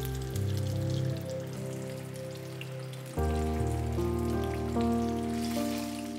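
Tofu fries in hot oil with a steady crackling sizzle, moderately quiet, under sustained background music that shifts partway through.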